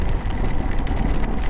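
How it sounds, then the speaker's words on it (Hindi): Heavy rain pours down during a motorcycle ride from Delhi to Gwalior through the Chambal valley, a loud, dense and steady downpour with constant patter and wind rumble and no speech. "नेचर ने हमारी पुकार सुन ली और हमें बहुत तेज बारिश दे दी"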